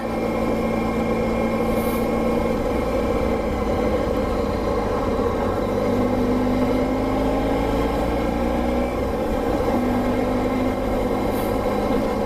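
1994 Honda ST1100 Pan European motorcycle engine on its first start of the season, idling in a steady close drone with slight shifts in tone.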